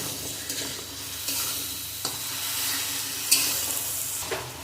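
Bottle gourd with salt, turmeric and green chilli stir-fries in a pan for lau chingri, a constant close sizzle punctuated by several clattering spatula strokes against the pan; no one speaks.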